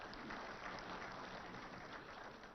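Steady applause from an audience at a launch event in Hyderabad for an annual IT report, a dense, even wash of clapping heard at a distance and lasting throughout.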